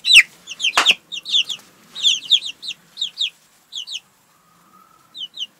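Chickens in a poultry yard give a series of short, sharp clucks in quick bursts, close and clear, with quiet gaps between them and no talking.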